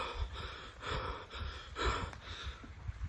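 Heavy rhythmic mouth breathing from a rider pedaling a mountain bike up a grassy hill, repeated gasping breaths close to the microphone with no talking.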